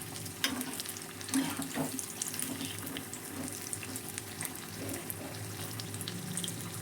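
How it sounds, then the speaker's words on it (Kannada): Mirchi bajji, chili fritters, dropped one by one into hot oil over a medium flame, crackling and sizzling steadily throughout with small bursts of spatter and no talking. "ಎಣ್ಣೆ ಕಾಯ್ದೆ ನೋಡಿ ಇವಾಗ ಬಜ್ಜಿ ಒಂದೊಂದೇ ಹಾಕ್ಕೊಳ್ತಾ ಇದ್ದೀನಿ"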